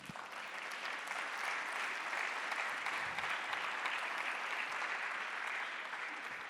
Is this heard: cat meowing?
no